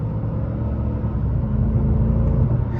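A car with an automatic gearbox accelerates in a steady low engine rumble heard from the cabin, the note holding then easing slightly as it shifts up a gear, with no speech.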